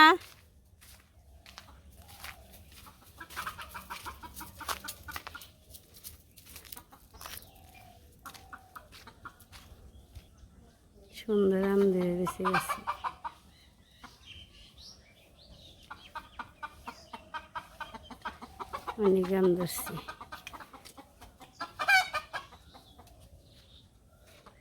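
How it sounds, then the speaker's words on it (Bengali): Many village chickens cluck around a homestead, with repeated close bursts of loud clucking and squawking among scattered calls and rustling, while people talk throughout. "অনেক মুরগি আছে"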